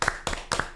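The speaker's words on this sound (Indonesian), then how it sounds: "Tepuk tangan semuanya." A few people clap together in a school podcast recording, three short, distinct bursts of hand claps in quick rhythm, close and moderately loud.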